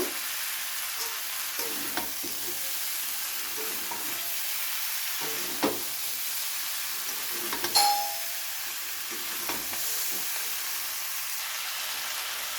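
Fried cauliflower, potatoes and flat beans being stir-fried together in a pan, a steady sizzle with occasional clanks and scrapes of the spatula and one brief ringing ding.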